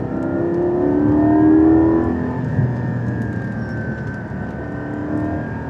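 A Porsche GT4 sports car accelerates hard along a road near the Mediterranean with the exhaust opened, its loud engine note rising and holding steady for several seconds, with no talking.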